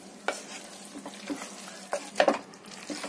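Chicken curry masala is stirred and mixed in a pan, giving a soft, close sizzle with several distinct scraping strokes of a spoon, the loudest cluster near the end, and no talk.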